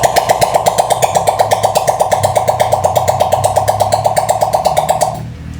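A 50cc motorcycle engine, freshly rebuilt with its displacement increased and still without its exhaust fitted, runs loud and close with a rapid, raspy, buzzing rhythm for about five seconds, then cuts out abruptly.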